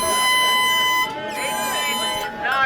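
A loud, steady air horn blares with a brassy, sustained tone, briefly dipping and then continuing while voices murmur underneath.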